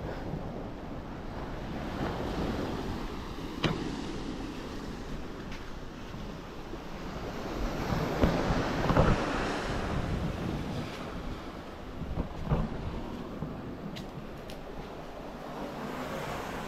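Sea waves washing onto a shore: a continuous low roar of surf that swells and recedes, with gusty wind buffeting the microphone and no voices.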